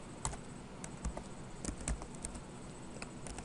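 Number keys are tapped on a computer keyboard in quick irregular bursts, the clicks light and close in a quiet room with no talking.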